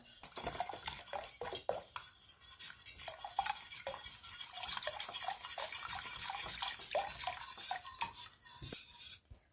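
Flour and milk being whisked in a pot for a chicken-breast milk pudding, a rapid rhythmic scraping and clinking of the whisk against metal, close and continuous, fading out at the end.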